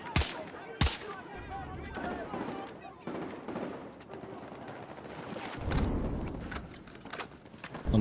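DMR rifle fired sniper-style in a shooter video game: a few sharp, separated gunshots with a louder final crack, mixed with speech and game effects.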